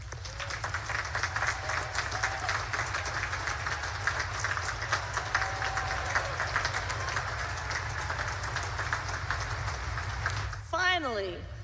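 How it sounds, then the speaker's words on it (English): Audience applause for distinguished graduates at a Naval Academy commencement ceremony, a broad, steady wash of clapping heard from a distance that carries on evenly before a short whistle-like sweep near the end. "Please join me in recognizing and applauding these distinguished graduates."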